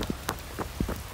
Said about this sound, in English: Hey, the rain's pretty cold